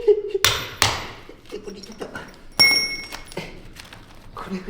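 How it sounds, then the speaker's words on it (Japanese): A hand hammer strikes a chisel against concrete during manual chipping for burying a drain pipe, giving about five sharp, close metallic knocks at irregular intervals, with faint talk and background noise between blows. "今5回金槌叩いたの"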